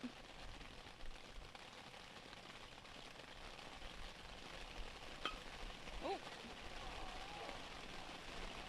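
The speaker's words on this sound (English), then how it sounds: "It's going to get a little rough here as the rain picks up." Steady rain hisses across a youth baseball field during a 14u World Series game, a constant, even wash of drops with faint, distant voices beneath it.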